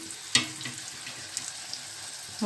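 Masala sautéing in a pan for a village-style Tamil fish curry, a soft steady sizzle with a sharp clink near the start and a light scrape at the end.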